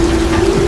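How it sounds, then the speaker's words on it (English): Heavy rain pours down during a tornado storm, a steady dense hiss that stays loud and close through a brief moment with no voices. "The rain is too heavy!"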